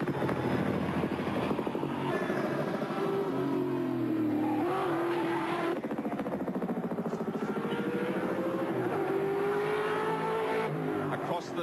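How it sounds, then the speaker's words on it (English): Dick Johnson's big V8 race car roars on a mountain circuit with a continuous engine drone that rises and falls as it revs through gears, heard under a commentator's talk. "one of Australian motorsport's most popular drivers guns the big V8"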